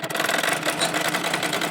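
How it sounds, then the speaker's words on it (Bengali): A sewing machine stitching a baby dress made from single-colour gauze fabric, running in a fast, steady mechanical whir close by for just under two seconds, with no voices. "সামনের পার্টের যে ভাঁজটিকে প্রথমে একটা পার্ট সেলাই করে নিচ্ছি"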